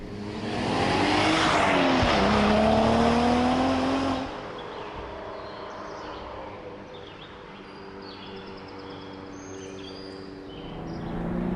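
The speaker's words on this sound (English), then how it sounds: "this turbo V6, it gets kind of frenetic, gets kind of frantic up in the higher RPMs" A 2016 Cadillac ATS-V turbo V6 engine revs hard and climbs in pitch for about four seconds, then drops off to a quieter idle-like hum with faint background noise.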